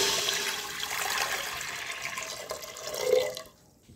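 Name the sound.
pouring water into pressure cooker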